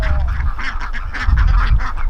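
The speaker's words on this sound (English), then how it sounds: "So we got some more ducks." Appleyard ducks quack and honk repeatedly at close range, a noisy overlapping flock with bursts every fraction of a second over a low rumbling background on a farm.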